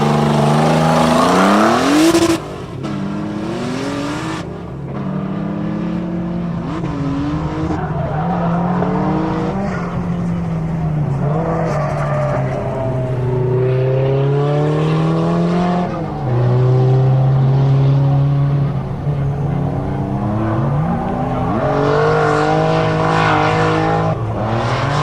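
Twin-turbo Nissan G35 drift car, its engine revving and rising and falling in pitch while the tires squeal and skid through long slides, loud and close, without talking.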